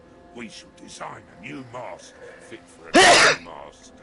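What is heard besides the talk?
sneeze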